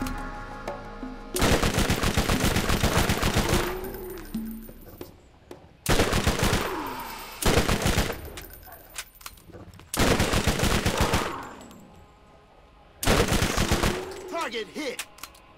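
Rapid automatic gunfire from a weapon in the video game Borderlands, fired in four loud sustained bursts of a few seconds each separated by brief pauses, with someone talking between and over the volleys.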